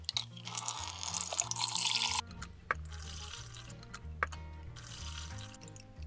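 Boiling water is poured out of glass jars while pickling onions, a close splashing gush that stops abruptly, followed by quieter trickles, drips and clinks.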